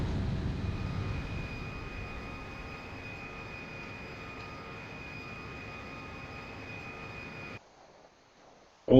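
A fighter jet in the flight combat game Jetfighter V drones with a steady engine roar and a constant high whine for several seconds, then cuts out into near silence.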